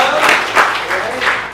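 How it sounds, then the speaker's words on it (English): Audience applause breaks out at a live talk, a short burst of dense clapping from a crowd that rises and swells in waves, with speech-like sounds mixed in. "I think we should clap for"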